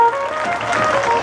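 Audience clapping at a religious fair honoring a saint in Punjab, a sustained wash of applause lasting the whole moment, fairly loud with a crowd murmur beneath.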